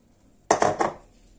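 A utensil knocks a few times against a bowl while lamb marinade of salt and water is mixed, three quick close clinks in under half a second, then quiet.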